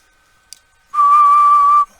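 A single steady whistle, close and loud, is blown into a Barrett 4050 HF radio microphone on single sideband at 125 watts, lasting about a second after a faint click.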